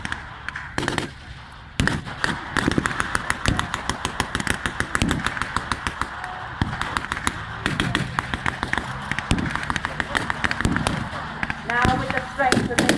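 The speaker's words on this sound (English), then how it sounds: "Again, making a plume of smoke in the sky, the 25-pounder fires." A 25-pounder field gun fires during a WW2 battle re-enactment amid a crackle of rapid blank-fire shots and bangs at a distance, with a commentator talking over the noise throughout.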